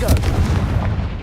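A Confringo blast spell going off in Hogwarts Legacy: a dense, heavy boom that stays loud and rumbling through its short length, with no talk over it.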